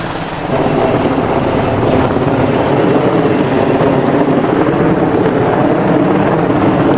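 A helicopter doing heavy lifting and rigging for power line work roars steadily and loudly overhead, its broad engine and rotor noise mixed with wind buffeting the microphone.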